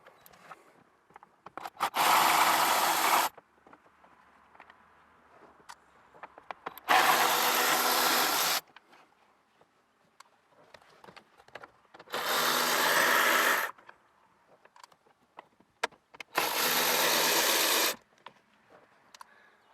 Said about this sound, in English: those are going to be 7mm bolts as well. Go ahead and remove those.